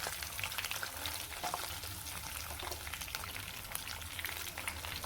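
Onion frying in hot oil with cumin and mustard seeds on a gas stove, a steady dense crackling sizzle throughout, close and even, with no talking.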